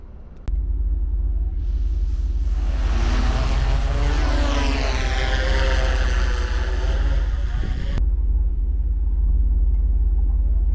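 A drone flies outdoors near a tower on a hot Texas day, its propeller buzz steady and close, with a passing swell that rises and fades while the rotor whine continues throughout; no talking.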